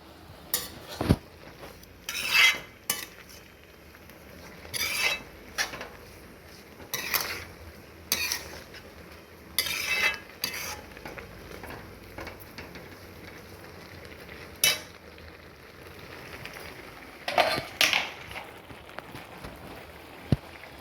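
A spoon scrapes and clinks repeatedly against a pan while stirring beetroot halwa cooked in milk with country sugar, giving short irregular bursts of close metallic scraping over a quiet background.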